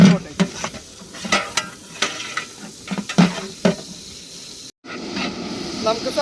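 Onions softening in a hot pan for kuzhi mandhi, with repeated scraping stirs and a steady sizzle; a brief pause in the frying comes near the end before the sizzle resumes, louder and fuller.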